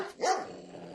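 A dog gives a single sharp bark nearby on an auction floor, brief and loud, followed by a faint room tail.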